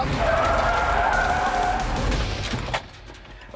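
A Ford truck's tires skid and scrub as it understeers on a sidewall, a loud sustained roar and squeal lasting nearly three seconds before cutting off, followed by a brief thump.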